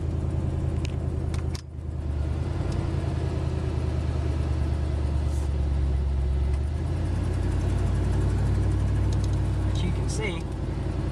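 A wood-gas-fueled truck engine idles steadily after startup with no gasoline, a continuous low rumble running close by throughout, with a brief dip near the start and faint light clatter on top.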